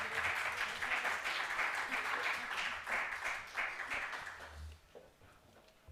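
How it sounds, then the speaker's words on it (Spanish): Audience applause for a volunteer named María at a talk on attention deficit hyperactivity disorder, a warm burst of clapping that fades out near the end, leaving a brief quiet. "un aplauso para María, por favor"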